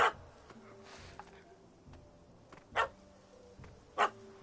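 Dog barking in The Witcher 3, a few sharp barks heard at moderate distance with game ambience between them, no talk.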